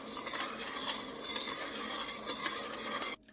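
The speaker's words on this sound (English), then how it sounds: "let it boil for a few more seconds here" Sugar syrup for jalebi bubbling in a pot, a dense, steady hissing and crackling simmer heard close up, cutting off abruptly near the end, with no voices.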